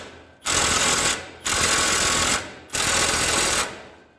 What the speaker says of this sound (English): I've got the little 3/8 impact.